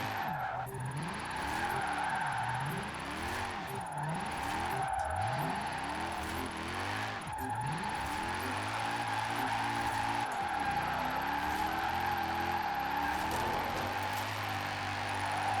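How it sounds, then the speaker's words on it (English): A vintage Mercedes slides through a long drift in Forza Horizon 4, its engine rising and falling in repeated revving sweeps while the tires squeal steadily throughout, with no talking. "Just sliding a car that's got like no grip."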